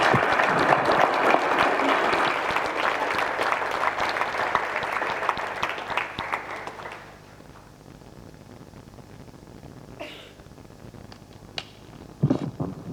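Loud sustained applause from an audience at a mayor's book club event fills the first seven seconds, then fades to a quiet room with a few faint scattered sounds.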